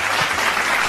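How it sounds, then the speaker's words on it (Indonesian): An audience claps at an Indonesian BPK auditors' talk on international external auditing at the IAEA, a short, dense burst of applause filling the moment without any voices over it. "Tepuk tangan dulu semuanya dong."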